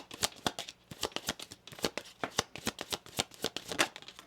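Oracle cards are shuffled by hand close up in quick, rhythmic riffling bursts with short pauses between, crisp and clear with no voices.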